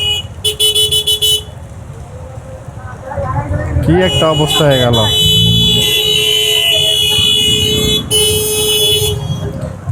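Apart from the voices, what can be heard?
car horns honking in traffic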